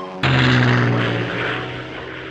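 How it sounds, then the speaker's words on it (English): A propeller airplane flies close behind, its droning engine cutting in suddenly and holding loud and steady before easing slightly in level. "That plane is still behind us and closing in."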